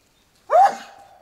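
A single loud, close sneeze outdoors, a sharp burst that trails off into a short fading tail, alone without talk.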